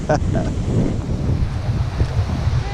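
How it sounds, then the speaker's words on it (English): Strong wind gusts buffet the microphone on an outdoor bushwalk at Hanging Rock, a steady loud low rumble throughout with a brief voice near the start. "Oh, that wind."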